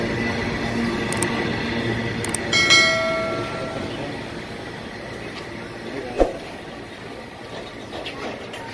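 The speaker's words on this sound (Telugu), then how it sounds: "గూడ్స్ రైలు అయితే వెళ్తుంది. బొగ్గునైతే లోడ్ తీసుకొని వెళ్తుంది" A goods train hauling coal rolls past at a railway station, a steady loud rumble of wagons with a metallic ringing squeal and a sharp clank midway; faint voices mingle in the background.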